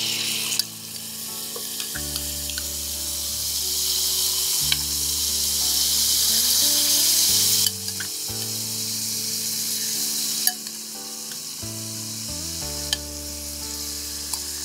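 Marinated chicken hitting hot oil in a pan, a loud continuous sizzle and crackle that runs throughout under a steady tonal background hum, with occasional stirring clatters and no voices.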